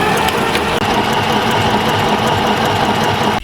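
A sewing machine running steadily at high speed, zigzag stitching along a fabric edge, with a loud, continuous mechanical whir and rapid ticking that barely pauses across the whole stretch, no voices.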